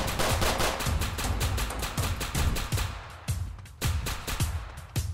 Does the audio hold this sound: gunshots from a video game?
yes